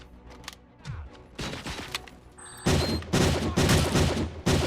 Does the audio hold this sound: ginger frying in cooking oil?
no